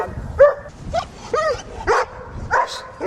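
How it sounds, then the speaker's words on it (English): A reactive dog pulling against a control pole barks repeatedly in short, loud bursts about every half second, with whiny yips mixed in, close by and without talking. "we have a dog that's pulling and reactive"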